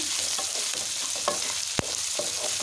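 Onions fry in a pan for an onion egg curry, with a constant hiss of sizzling, several soft scraping stirs, and one sharp knock against the pan near the end.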